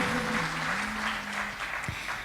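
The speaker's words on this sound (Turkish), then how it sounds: "Alkışlayan elleriniz dert görmesin." Brief audience applause at a poetry and music concert in Çorum, Turkey: a moderate wash of clapping heard under a sustained tone that fades out near the end.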